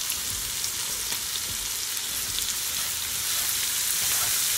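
Butter sizzles steadily in a frying pan with garlic shrimp, a continuous crackling fry at close range that holds level throughout with no voices.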